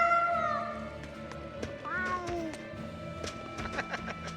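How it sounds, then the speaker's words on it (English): In the Tales of Berseria video game, a cat gives a few short meows over background music, with light clicks and chimes scattered through the clip. "You found a cat."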